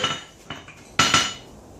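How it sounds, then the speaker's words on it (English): A blacksmith's hammer strikes hard three times in quick succession, each a loud, ringing metallic clang with a sharp attack and short decay, close by with no talking. "If you hear how hard this hammer is hitting."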